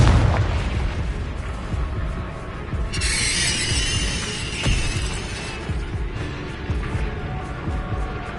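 A Confringo blasting spell explodes in the Hogwarts Legacy video game, a loud burst and crackling shatter over a dense, continuous rumble of game combat noise, with no talk.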